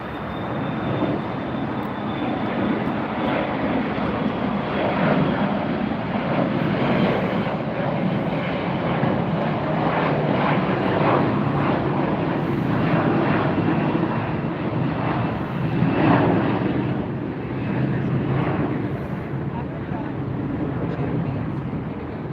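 A jet airplane departing LAX on a Friday night gives a loud, steady engine roar that holds for over twenty seconds, with a faint background voice now and then.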